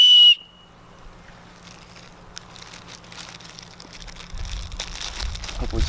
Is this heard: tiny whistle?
yes